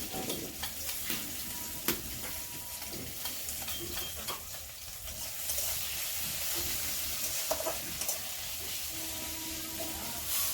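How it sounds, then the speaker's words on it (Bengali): Maggi noodles cook on a home stove, a steady close sizzle and frying hiss running throughout, with occasional stirring scrapes and clinks over it. "ম্যাগি বানাচ্ছে চুলার মধ্যে"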